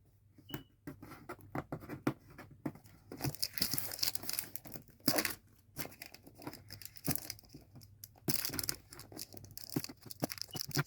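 Tape peeled and torn off a laptop box, a series of close, crackly ripping and crinkling bursts with short pauses between pulls, quiet background.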